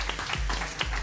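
A studio audience applauds on a Chilean fashion TV show. The clapping is brief, dense and steady, heard alone without talk.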